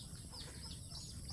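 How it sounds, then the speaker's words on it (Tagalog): Chickens cluck softly and repeatedly on a rural property, a faint, short stretch of low murmuring calls heard at a moderate distance without any talking. "Itong iba kong manok."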